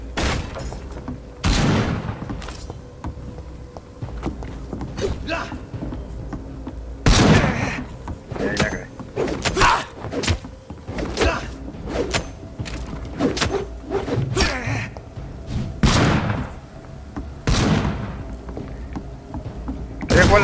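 Shotgun blasts in Vampyr ring out as a series of sharp, heavy reports spaced irregularly a second or two apart, each cracking loudly over a low ambient bed with occasional thuds between shots.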